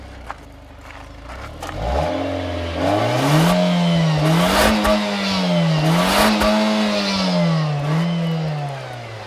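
A 2013 Nissan Juke Nismo with a CVT accelerating hard from a standstill toward 60 mph, the engine note rising sharply then droning and wavering in pitch, loud and close with no talk.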